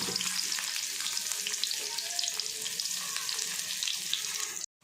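Chopped onions sizzle and fry steadily in hot coconut oil in a pan, a bright continuous crackle with light stirring that stops abruptly at the end.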